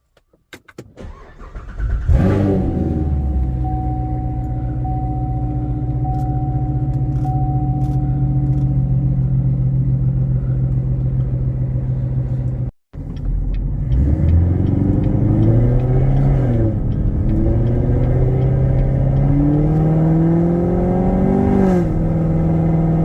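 A Chevrolet C7 Corvette V8 cranks and fires into a loud, steady idle, cuts off briefly, then restarts and revs up in several rising and falling throttle blips, close and without talk.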